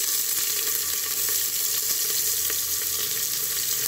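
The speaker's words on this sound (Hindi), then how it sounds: "अब हम जो है प्याज दे देंगे।" Onions sizzle steadily in hot oil in a pan while veg biryani is cooked, a constant close frying hiss with faint crackles and no talk.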